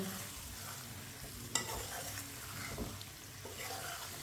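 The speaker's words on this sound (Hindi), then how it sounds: "अंडों को भी साथ में मिक्स कर लेंगे।" Whole boiled eggs are stirred into a simmering vegetable curry, giving faint, soft scraping and a quiet sizzle with one brief sharper clink partway through, all low in level with no speech.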